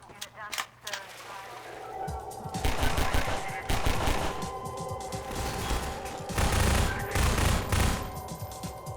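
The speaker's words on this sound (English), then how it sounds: "I'm just going to shoot that guy in the crotch a few times" Repeated bursts of gunfire shooting an enemy in Half-Life 2, loud rapid volleys coming in several clusters over the game's mechanical background sounds, with a voice talking at times.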